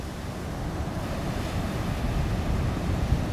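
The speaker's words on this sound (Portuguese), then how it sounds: "Que bela onda entrou ali, que esquerda linda!" Ocean waves breaking at a surf beach, a steady loud wash of surf mixed with wind noise, with no talking.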